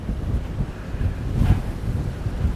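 Strong wind roars steadily across the microphone, a deep rumbling gusting sound that swells briefly in the middle, with no voices.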